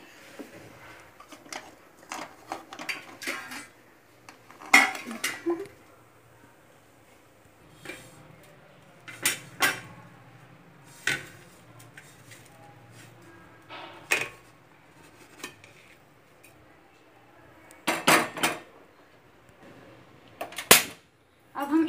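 Roasted semolina for coconut laddoo is scraped from a kadhai onto a plate. Scattered sharp metal clinks and knocks stand out over a quiet background.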